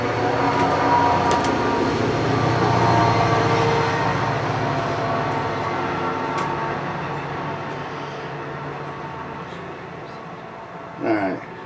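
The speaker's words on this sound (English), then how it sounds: "there's a train going by" A train rumbles past steadily with a broad, roaring noise that slowly fades over several seconds, ending with a brief thump.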